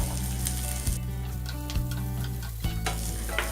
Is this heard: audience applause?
no